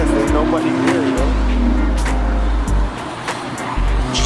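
Race cars at a cold, nearly empty race track roar loudly nearby, with sustained engine drone, pass-bys and brief tire squeals as cars drift, while a person talks over the noise.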